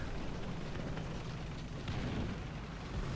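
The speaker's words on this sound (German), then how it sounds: "Artilleriefeuer. Was? Das muss durch die Artillerie geschehen sein." A distant artillery explosion in the tank battle video game War Thunder, a broad rumbling boom washing through steady noisy battlefield ambience, fairly quiet with no talk over it.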